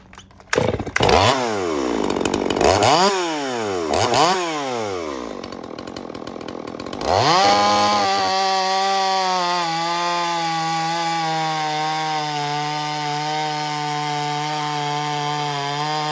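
A Stihl MS 250 chainsaw fitted with a modified muffler starts up close and loud. It revs hard in several rising and falling sweeps, then settles into a steady, high-pitched buzzing run.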